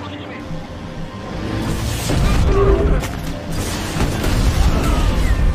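RPG fire and explosions in a war film form a loud, continuous wall of rumbling blasts and crashing impacts that swells and stays heavy throughout.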